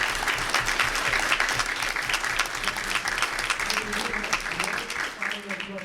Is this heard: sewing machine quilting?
no